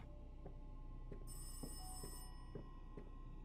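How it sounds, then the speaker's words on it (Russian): A telephone rings inside the horror video game Rise of Insanity, a bright ringing tone lasting about a second over a steady low game ambience with faint periodic thumps. "Я уже заебался на телефон на звонки отвечать."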